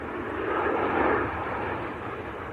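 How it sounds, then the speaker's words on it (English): A Ryanair airliner from Katowice comes in to land, its engines a steady broadband roar that swells slightly and then holds, heard from a distance with no talk. "Ryanair from Katowice about to land."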